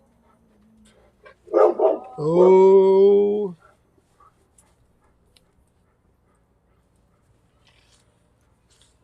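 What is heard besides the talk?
dogs barking at neighbor's dogs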